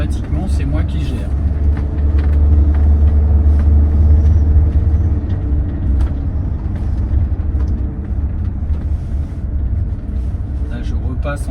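A 2024 Fiat Ducato van drives along under manual gear control, with a steady low engine and road rumble that swells and eases slightly while someone talks over it.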